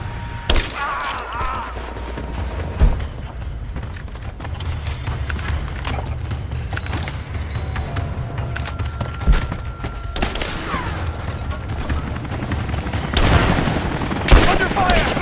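Gunfire during combat in Rise of the Tomb Raider: dense bursts of shots and booms over a constant rumbling game soundtrack, loud and continuous, with sharp impacts scattered throughout and a heavier flurry near the end.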